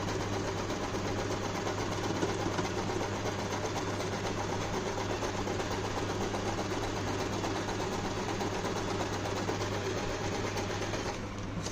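An Usha Janome Allure DLX sewing machine runs continuously while stitching a zigzag design, a steady close mechanical whir and rapid needle chatter held at even loudness throughout, with no speech.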